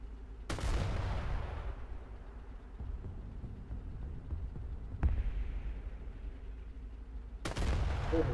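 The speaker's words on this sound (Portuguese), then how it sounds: "Porra, o cara atirou, velho!" Gunfire in a video game: three sharp, booming shots spaced a few seconds apart, each with a rumbling decay, over a low background hum.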